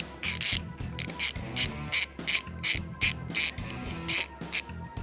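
Bolt being loosened with a ratcheting hand tool, repeated rhythmic ratchet clicks in short bursts, close and fairly quiet with no talk.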